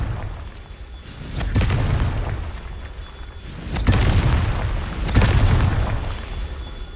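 Spell blasts from the Confringo curse in Hogwarts Legacy: several heavy booming bursts with sharp cracking onsets over a busy, noisy game backdrop, loud and close, with no talk.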